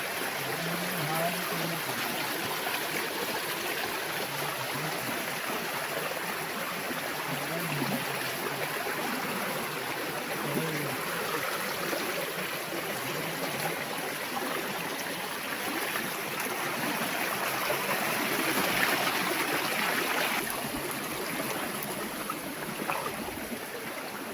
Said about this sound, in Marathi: पाणी बघा मित्रांनो कुठपर्यंत आहे ते नदीचं